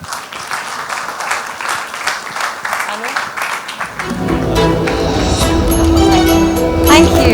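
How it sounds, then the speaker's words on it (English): Audience at a cancer fundraiser with a fashion show applauding, scattered clapping building into a sustained loud round, with talk and music over the top. "could we have another collective loud round of applause for everyone on stage at the moment"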